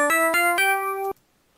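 Protracker tracker music on an Amiga plays at default speed F06. A few quick chiptune-like tonal notes step upward, then stop abruptly, leaving near silence.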